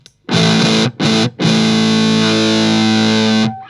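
Electric guitar through an Electro Harmonix Satisfaction Plus fuzz pedal with resonance off gives a thick, buzzy distorted tone: two short chord stabs, then one long sustained chord ringing loud before cutting off, with no talking.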